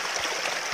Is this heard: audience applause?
no